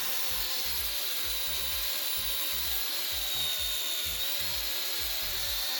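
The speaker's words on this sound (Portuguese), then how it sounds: "vou colocar na furadeira para facilitar aqui" An electric drill spins steadily to clean oxidation off a magnetic key switch contact, a continuous whirring hum with a rhythmic rubbing, scraping pulse repeating about twice per second throughout.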